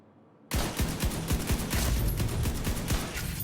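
Rapid automatic rifle fire in The Division 2 bursts in suddenly after a brief quiet moment, then continues as a fast, steady stream of close, loud shots.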